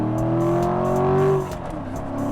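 A 2014 Corvette Stingray C7 V8 revs up loudly and close, rising in pitch, then dropping off and settling back toward idle.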